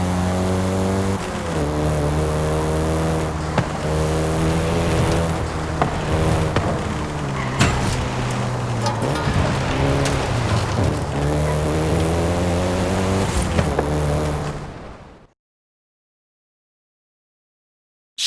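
A VW Golf GTI engine drives in Forza Horizon 5, loud and close, revving up through several gear changes for about fifteen seconds before cutting off abruptly into silence.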